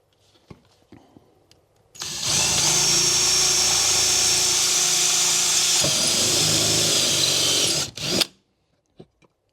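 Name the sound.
drill enlarging holes in metal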